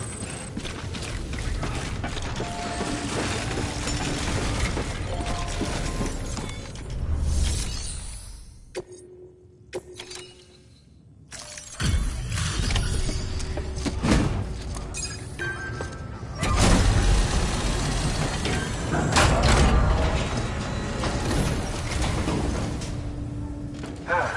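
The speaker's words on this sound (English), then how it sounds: "Decontaminating suit." A suit decontamination machine in the Death Stranding video game runs through a noisy cycle of mechanical clatter, thuds and sliding, broken by a brief near-silent gap before the loud machinery resumes.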